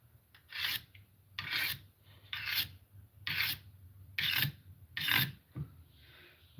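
Tool being sharpened with a file to take off the burr: six loud, evenly spaced rasping strokes, close up and alone with no talk.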